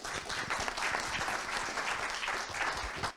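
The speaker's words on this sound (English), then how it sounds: "now we'll have one round of applause for the fact that we're here with Martin Andree and with Erik van Heeswij" A round of applause from the audience at a public lecture, moderate steady clapping from a modest crowd, somewhat distant, lasting about three seconds.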